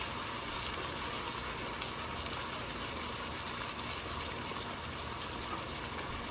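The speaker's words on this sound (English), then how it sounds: "I just put a couple of tablespoons of water in there" Water gushing into a pasta sauce jar, a steady broadband pouring hiss lasting several seconds without pause, faint and even.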